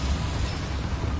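An Incendio fire spell cast in Hogwarts Legacy gives a steady, low roaring whoosh of flame that holds at an even loudness through the short burst, with no voices over it.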